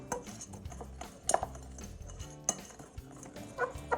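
Pizza dough ingredients with sugar being whisked in a bowl, quiet irregular clinks and taps of the whisk against the bowl, close but faint, with no talk.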